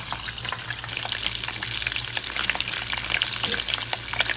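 A ham and cheese sandwich fries in a pan on medium-high heat, giving a steady, close sizzle with small crackles and pops throughout, and no voices.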